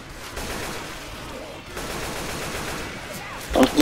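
Gunfire in Left 4 Dead 2 during a Realism Versus round on the Dark Carnival campaign: a dense, continuous rattle of shots with a louder burst at the end.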